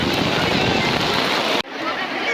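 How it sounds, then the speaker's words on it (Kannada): Steady, dense hiss of heavy rain pouring at an outdoor village chariot festival with bulls and crowds sheltering under trees, briefly cutting out before the downpour continues. "ಮಳೆ ಯಾಕೋ ನಿಲ್ಲಂಗೆ ಕಾಣ್ತಲ್ಲ"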